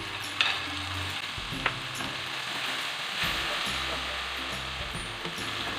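Chopped tomatoes cooking with brinjal masala for baingan bharta, a quiet continuous sizzle in the pan with a couple of sharp utensil knocks and low stirring scrapes.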